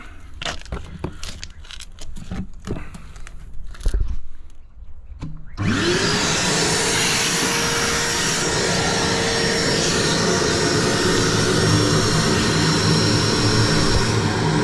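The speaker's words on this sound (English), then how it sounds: "So we'll give this a suck out" A suction vacuum starts up on a blocked drain holding sand, first scattered knocks and clatter, then a sudden loud roaring whine of suction that holds steady and close to the end.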